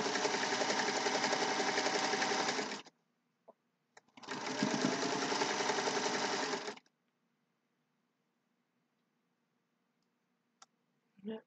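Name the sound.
sewing machine stitching quilt block seam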